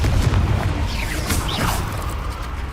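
A Confringo blasting curse from the Hogwarts Legacy video game lets out a deep, booming burst with a swishing magical whoosh, holding steady at loud volume for a few seconds.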